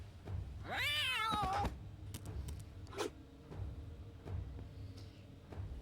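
A thrown cat in XCOM 2 lets out a loud, warbling meow early on, followed by a few brief clicks and scuffs over a low background rumble.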